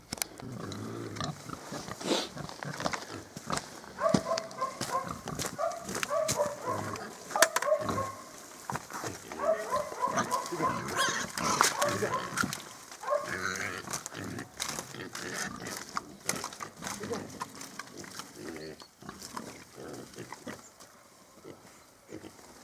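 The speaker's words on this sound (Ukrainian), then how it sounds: "так і годуємо свиней" Pigs eat their winter feed of grain and hay, grunting, snuffling and chomping steadily and close by, with occasional sharper squeals and a bit of speech over the feeding noise.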